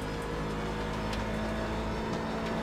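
Gravel rattling and clattering around a race car in the iRacing sim during an IMSA race at Watkins Glen, a dense continuous patter over a steady engine drone.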